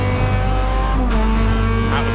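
A Honda Civic EG race car driving hard on a circuit out of the pit lane, a loud sustained engine drone with shifting revs heard from onboard, with a voice talking over it.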